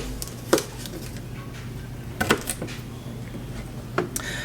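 A knife chops peeled ginger into smaller chunks: three sparse, crisp strikes against a cutting board with quiet pauses between them.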